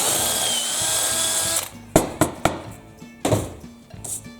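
A power drill fitted with a 25/64 bit runs steadily for about a second and a half, then stops, followed by several sharp knocks and thunks from handling the tool and workpiece.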